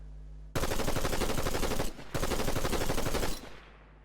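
An assault rifle fires in the Fortnite video game: two sustained bursts of rapid automatic gunfire, loud and close, split by a brief pause, with a fading tail at the end.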